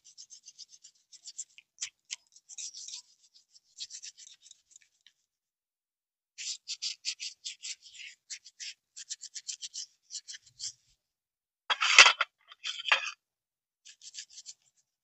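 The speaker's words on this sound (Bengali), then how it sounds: "এইভাবে একটু সময় নিয়ে শাখাগুলো যত ভালোভাবে ঘষে নেবেন তত ভালোভাবে কিন্তু শাখাগুলো সাদা ধপধপে হয়ে যাবে।" Conch shell bangles being scrubbed clean with white Colgate toothpaste, heard as short, close rasping strokes in uneven bursts, with pauses between them and one louder stretch of scrubbing near the end.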